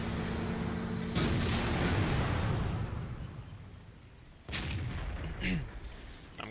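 The Obj 263 tank's main gun fires in a tank battle game, with a heavy booming blast that decays into a rumbling tail, followed by a second sharp report a few seconds later amid game noise.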